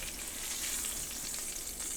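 Sucker fish patties fry in a hot greasy pan, giving a steady, close, loud sizzle and crackle with no pauses.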